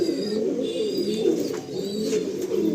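Red-eyed pigeons cooing steadily nearby, soft low throaty calls overlapping, with faint chirps from other birds in the background.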